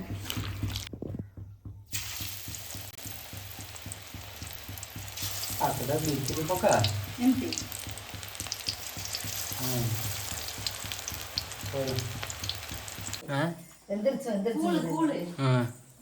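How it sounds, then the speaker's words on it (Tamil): Onion and potato pakoda deep-fry in hot oil with a continuous bubbling sizzle, while people talk intermittently over the frying. "மீத இருந்த மாவில் எங்கள் ஊர் ஸ்பெஷல் வெங்காயம், அதுக்கப்புறம் உருளைக்கிழங்கு பக்கோடா"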